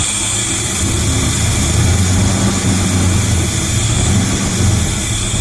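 A classic Chevrolet C10 pickup engine idles after a new carburetor install, a steady, loud low rumble with hiss and a constant high whine on top, holding even throughout without revs or talk.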